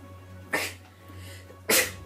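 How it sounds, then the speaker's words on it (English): A person sneezes twice, each a sharp, loud burst about a second apart, over a faint steady hum during a Black Ops 2 game session on Xbox 360. "I have to sneeze."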